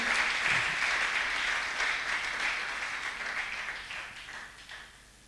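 An audience at a church gathering breaks into sustained applause to acclaim the Lord, a dense, steady wash of clapping that slowly fades over several seconds.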